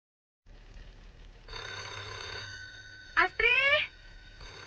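An old telephone bell ringing in a 1982 Indonesian film scene, a sustained electric ring with a brief pause, then a louder warbling burst, over low room noise and faint background voices.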